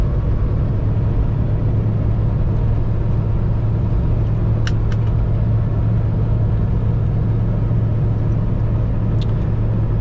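A pickup truck with a 5.3 V8 engine drives along, heard from inside as a loud, continuous low rumble of engine and road noise with a couple of faint ticks on top.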